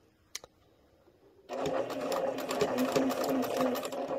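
Sewing machine basting piping onto a fabric panel for a tuffet footstool, a soft tap before a steady, fast mechanical whirr that runs close and continuous for a few seconds.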